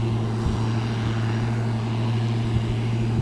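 A loud, steady engine roar from a New Holland T6050 tractor pulling an Alpego subsoiler drones low and constant, a heavy motor running continuously with no voices.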